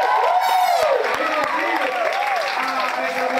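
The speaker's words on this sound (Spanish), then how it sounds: "ese aplauso me gustó" An audience applauds loudly at a Christian teaching event, with steady clapping under excited shouting and cheering voices throughout.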